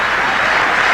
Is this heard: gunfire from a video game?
no